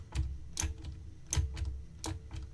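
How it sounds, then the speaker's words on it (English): A Topolino self-impressioning tool with a plastic handle gives a series of small, soft clicks at a loose, roughly regular pace as it is turned, faint and close, with no talk. "Can you hear this little clicking noise?"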